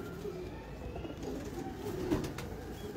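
Pigeon coos from a large champion high-flyer breeder bird, a soft low murmuring against a steady background hum, with one brief louder note near the end.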